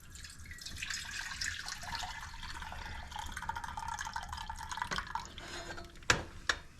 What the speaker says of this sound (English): I'm going to take the meatloaf and I'm going to pour off the juice